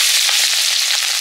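Dried red chillies and panch phoron spit and crackle in hot oil. The sizzle is bright and loud, with quick popping bursts, and continues steadily through the whole short moment.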